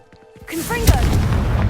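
A Confringo blasting curse from Hogwarts Legacy goes off as a single loud, close boom that swells after a brief spoken cast and rumbles on to the end.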